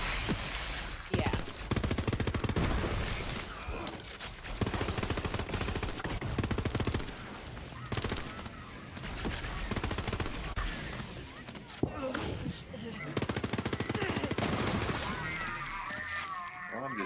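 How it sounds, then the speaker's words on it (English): Constant rapid gunfire from a video game firefight, loud and dense throughout, with bursts of automatic fire and sharp honking-like blasts layered over a busy, continuous din. "shooting all sorts of stuff over here"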